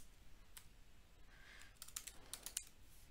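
Brief, quiet keystrokes on a computer keyboard at a desk while setting up an AWS role, a few scattered clicks and a short burst of taps near the end, with no talking.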